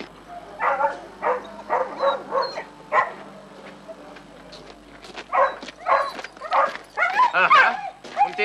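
Several dogs bark, yip and whimper in a German crime radio play, in two bursts of repeated barking separated by a short pause, close and fairly loud, with faint background tone.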